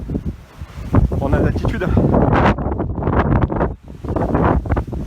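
Strong wind buffets the microphone on a frosty mountaintop at Bugarach in May, a loud, rough, continuous roar with gusting surges, while a person speaks briefly through it.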